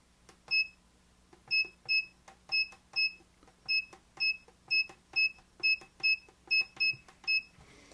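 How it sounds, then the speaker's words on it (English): A small electronic device gives repeated high, clean beeps as its buttons are pressed, about a dozen short evenly spaced tones with faint clicks from the keys, close and alone in a quiet room. "get rid of this silly beeping every time you hit a button"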